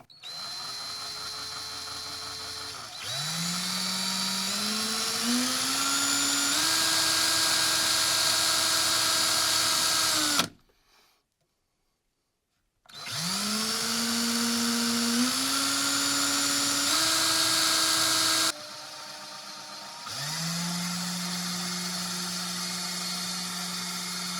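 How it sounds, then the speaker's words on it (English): A power drill running in reverse whirs in several long bursts while removing a vape coil, its pitch rising as it spins up, with a short silent gap between runs; close and loud. "let's go ahead and make sure the drill is on reverse"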